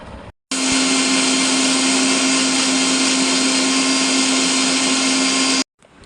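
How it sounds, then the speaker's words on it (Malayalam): An electric blender whirs at a steady, loud, continuous pitch, grinding mango pieces with chopped ginger and two cardamom pods, starting abruptly and stopping abruptly after about five seconds. "ഇനി ഇതിലേക്ക് ഒരു കഷ്ണം ഇഞ്ചി ചെറിയ കഷ്ണമായിട്ട് അരിഞ്ഞത് ഒരു രണ്ട് ഏലക്കായ കൂട്ടിയിട്ട് ആദ്യം നമുക്കിതൊന്ന് അട അടിച്ചെടുക്കണം"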